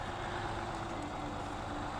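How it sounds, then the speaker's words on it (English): A heavy truck engine drones steadily and loudly, a low rumbling strain with no break, as if labouring under load. "I'm just about to pull out this truck out of the mud."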